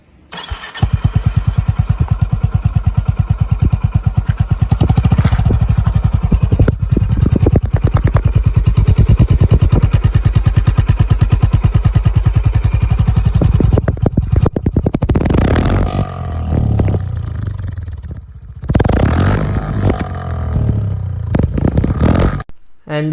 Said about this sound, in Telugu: ఈ బైక్ యొక్క ఎగ్జాస్ట్ సౌండ్ వినండి ఒకసారి